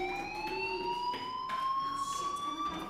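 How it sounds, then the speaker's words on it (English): Fire alarm ringing inside the video game Life Is Strange: a steady, continuous electronic tone with bright overtones that holds for the whole stretch at moderate loudness, with no talking. "do you hear that fire alarm?"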